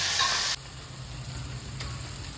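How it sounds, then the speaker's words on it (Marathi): Onion fries in oil for Maharashtrian shev bhaji, starting with a brief loud hissing burst, then settling into a softer steady sizzle close by, with no talking. "कांद्याचा कलर थोडा चेंज होईपर्यंत आपल्याला तेलात परतायचा आहे"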